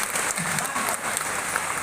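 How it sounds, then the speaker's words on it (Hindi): Vigorous applause from the audience at a kavi sammelan poetry recital at Bokaro Club, a dense, steady wash of clapping heard briefly and somewhat faintly, like a hall-wide ovation. "एक बार जोरदार तालियां।"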